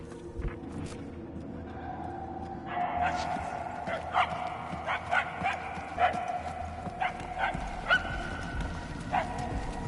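A dog barks in the distance, a series of faint yips and barks over a steady outdoor background with soft clopping, while people talk at times.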